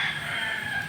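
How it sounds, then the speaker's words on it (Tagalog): Chickens crow and cluck beside a stream at a bamboo grove and poultry yard. The calls are close and fairly loud, and they fill the whole short moment with no talk. "May mga manok."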